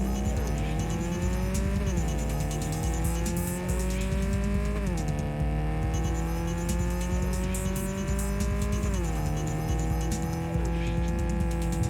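A car engine from the video game Cyberpunk 2077 revs up steadily, dropping pitch at each of three gear shifts while tires hum and squeal faintly underneath, loud and continuous with no talking.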